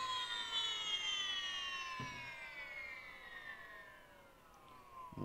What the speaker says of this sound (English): Let that motor spin down and we'll take a look at what we have.